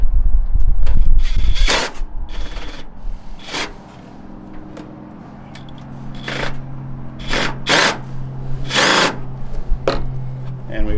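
A power tool drives a bolt with a nylock nut on a MacDon FD2 Series header, a whirring motor with several short bursts of ratcheting grind, close by and loud, separated by brief pauses and handling noise.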